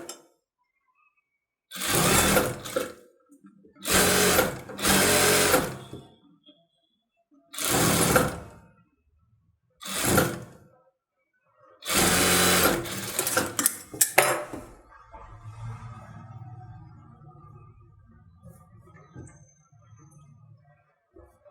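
A sewing machine runs a rough tacking stitch on a blouse back round design, in several loud bursts of stitching separated by short pauses, then faint handling sounds of fabric and parts in a quiet room.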